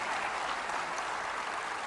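Audience applause at a university centenary celebration, steady broadband clapping from a large crowd filling the whole stretch without pause, with no voices rising above it.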